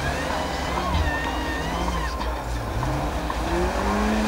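A car revs and spins its wheels, trying to dig itself out of snow at a winter rally event; the engine drones steadily with rising and falling pitch, loud and close, with a commentator talking over it.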